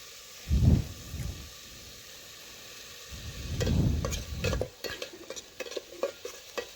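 Vegetables with chilli powder being stirred in a pan for veg khichuri, giving scraping spoon strokes over a soft sizzle, first in two slow bursts, then quicker clinking scrapes toward the end.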